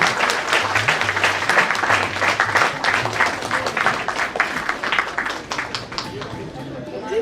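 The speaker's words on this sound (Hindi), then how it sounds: "जोरदार तालियां इस बिटिया के" Loud, sustained clapping from an audience at a Yoga Day program in Mahalaxmi Nagar, Indore, honoring a girl, with a low voice and crowd chatter mixed underneath.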